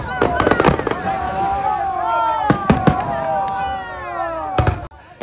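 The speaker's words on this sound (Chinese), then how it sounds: "伴随着烟火点亮八斗子的夜空" Festival fireworks burst over the sea at Badouzi in Keelung during the Ghost Festival water lantern release, with repeated loud bangs and crackles under a steady narrating voice.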